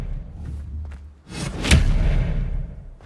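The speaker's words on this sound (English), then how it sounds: "Expelliarmus!" Expelliarmus spell cast in the game Hogwarts Legacy: a low rumble, then a rising whoosh that bursts into a sharp, heavy impact thud followed by a lingering roar fading out.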